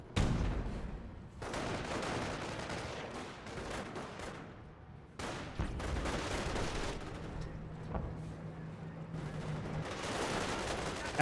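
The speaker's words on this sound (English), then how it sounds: "30 cal engaging, the rifle squads engaging, but they are getting flanked." Sustained bursts of machine gun and rifle fire from a Company of Heroes battle with a .30 cal machine gun and rifle squads, rattling loudly in long volleys broken by brief lulls, with faint talk underneath.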